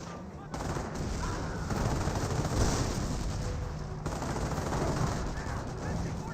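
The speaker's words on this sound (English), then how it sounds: "We've got the 60mm mortar firing" A 60mm mortar and other weapons fire in a Company of Heroes battle, a dense, loud, continuous barrage of gunfire and thumping blasts that runs throughout, with a voice talking faintly underneath.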